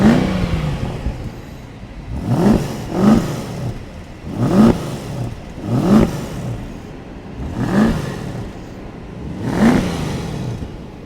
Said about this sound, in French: on est sur le son mythique AMG